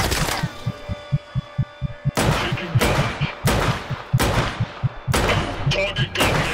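Revolver gunshots ring out in the video game Just Cause 3, about five loud, sharp blasts spaced roughly a second apart, each decaying into a short echoing tail over a low rhythmic thumping background.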